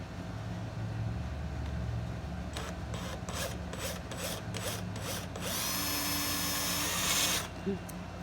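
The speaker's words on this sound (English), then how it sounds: "let me get these the drill set up to do these holes" Power drill boring holes into a homemade countertop, with a rhythmic series of short bursts followed by one longer, louder continuous run, close up over a steady low background hum.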